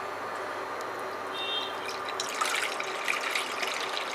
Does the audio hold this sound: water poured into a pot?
yes